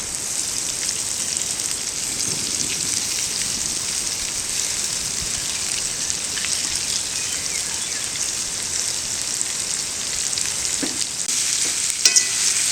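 Sliced large onions sizzle steadily in a hot pot, a dense bright frying hiss that runs without pause, with a few scraping stirs and small clinks near the end.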